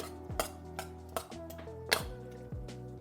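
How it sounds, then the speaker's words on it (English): Hot spaghetti being tossed with sauce in a bowl, giving repeated clinks and scrapes of utensils against the bowl at a steady, uneven rhythm, close and clear. "I'm gonna add a little sauce to it, and just give it a nice good mix."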